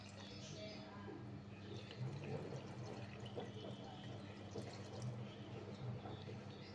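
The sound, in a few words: pouring water over rose petals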